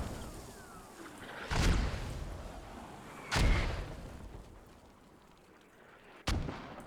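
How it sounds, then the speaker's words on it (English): Mortar rounds landing in a military video game match: three heavy booms spaced a couple of seconds apart, the last one sharper and shorter, over a steady low background rumble with no talk. "mortars are going down"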